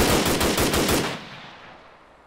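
Rapid burst of automatic gunfire in the Arma 3 DayZ Breaking Point game, about eight quick shots in a row, loud and close, then a fading tail into quiet.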